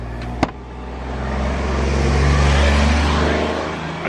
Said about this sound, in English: I apologise for the road noise,